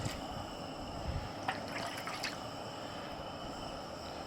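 Water poured into a pot on a camp stove outdoors, a soft steady trickle and splash with a few brighter drips, fairly close and quiet against wind and background noise.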